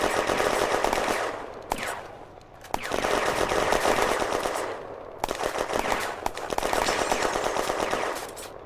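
Sustained bursts of machine gun fire from a WWII battle game set in June 1940 at Bléneau railway station, loud and continuous with short gaps between long volleys, no talking.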